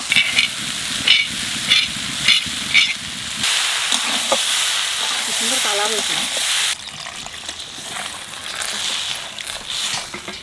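Potato and cauliflower curry sizzles loudly in a pan as a roasted spice mix is stirred in, with steady frying hiss and scraping of a spoon, some rhythmic clatter early on.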